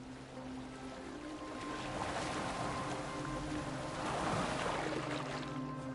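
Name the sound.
boat moving on water in Assassin's Creed Valhalla video game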